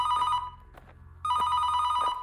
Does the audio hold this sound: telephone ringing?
yes